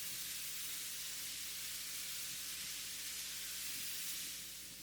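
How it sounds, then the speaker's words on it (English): A broad hiss of white noise in an electronic music track washes over a quiet, low droning backdrop, steady and soft before tapering off at the end. "this white noise gives the track a little bit more hands up in the air vibe"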